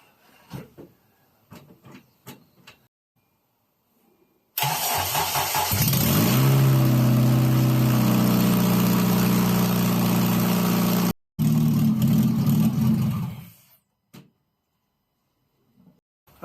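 A 2011 Honda CR-Z with a swapped K20Z3 engine and only a header for exhaust cranks, fires and settles into a loud, raw idle for about seven seconds, cuts briefly, restarts and idles again before shutting off; faint clicks come before it.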